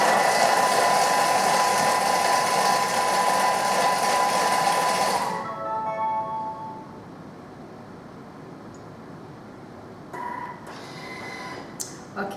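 A kitchen mixer blends the wet ingredients for coconut bliss balls in a loud, steady whir lasting about five seconds, then stops abruptly, followed by quiet and a few soft knocks near the end.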